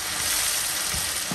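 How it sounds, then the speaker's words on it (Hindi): Ginger, garlic and spices frying in oil for a mutton stew, a dense continuous sizzle with faint stirring scrapes, close and steady throughout. "लहसुन अदरक दो चम्मच, इसको भी अच्छे से भून लेते हैं"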